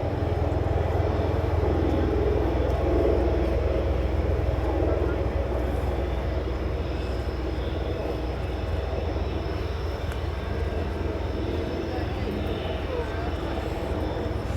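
A US Marine Corps Bell Boeing MV-22B Osprey tiltrotor flies at the RIAT 2012 airshow, its deep, broad rotor and engine roar filling the air steadily. A voice talks beneath the din.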